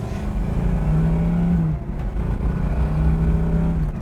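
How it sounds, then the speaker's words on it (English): A 1968 Chevrolet Camaro with a manual transmission roars from its exhaust pipes while driving, revving hard, dropping briefly as a gear changes, then climbing again in a loud, throaty drone. "Coolest thing about having a manual transmission is making those pipes talk"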